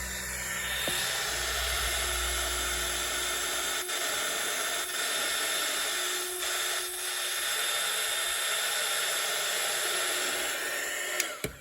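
Heat embossing tool melting holographic embossing powder on paper die cuts, giving a steady loud blowing hiss that runs almost without a break and cuts off near the end.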